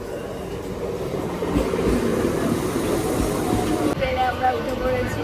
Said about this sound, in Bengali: বেশ কিছুক্ষণ ওয়েট করার পর ট্রেন আসলো।